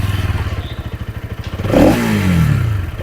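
A Bajaj Pulsar NS200 motorcycle with an underbelly exhaust idles with a loud, close, pulsing thump and then revs up sharply before settling back down. No one is speaking.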